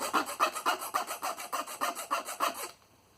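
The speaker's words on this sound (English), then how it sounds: "The best thing to do is to file it down absolutely to within an inch of its life." Hand file rasping down a rivet head on a metal strap end, about eleven even back-and-forth strokes in a steady rhythm, close and clear with no talk, stopping abruptly.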